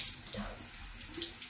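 Water runs from a bathroom sink tap during a nighttime face-rinsing routine, a quiet steady splash and hiss held alone for a brief moment.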